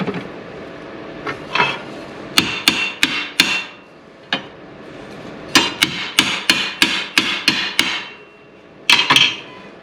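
A hammer striking a transfer punch to mark a hole in a workpiece held in a vise, sharp metallic taps in short irregular clusters, close and loud, with quiet pauses between groups and no talking.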